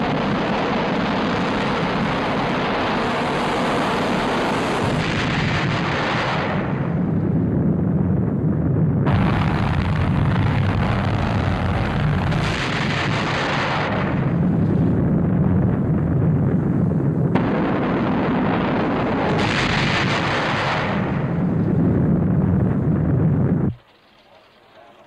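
Deep, rumbling missile explosions and roaring blasts fill a 1977 science-fiction film battle, loud and continuous with surging waves of noise before cutting off abruptly near the end.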